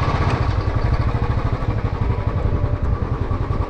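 A motorcycle engine runs close by with a steady, throbbing low rumble as the bike is brought in to park at the Kuldhara site near Jaisalmer.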